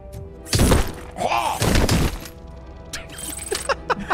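In the Robocop Rogue City video game an enemy is lifted and slammed down onto the ground with a heavy, loud thud and crunching impact, followed by a second thumping hit and smaller clattering debris, with voices in the background.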